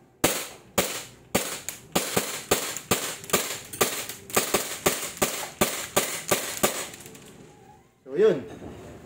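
Umarex G17 Gen5 MOS airsoft pistol fired in a rapid string of about fifteen sharp, loud cracks at a steady rhythm, ending with a brief metallic clack and murmur.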